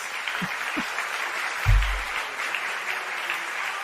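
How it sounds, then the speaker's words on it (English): A studio audience at the finals of a gala audition applauds in a steady, dense wash of clapping that carries on throughout. A couple of brief low thumps stand out partway through. "Yes, applause."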